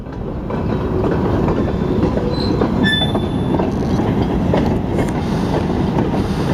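Long freight train of three locomotives hauling about 100 covered hopper cars rolling past slowly at around 5 mph, a steady heavy rumble with clacking wheels and brief high metallic squeals, no talk.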